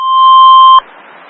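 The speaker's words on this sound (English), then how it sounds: "The signal you just heard was our weekly test of the NOAA Weather Radio warning alarm system" NOAA Weather Radio warning alarm weekly test: a loud, steady single-pitch electronic tone held for nearly a second, then cut off abruptly into faint background hiss.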